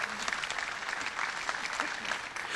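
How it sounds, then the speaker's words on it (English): Audience at a fan event applauding steadily, a dense wash of many hands clapping at an even level throughout with no pauses. "Give yourselves a round of applause"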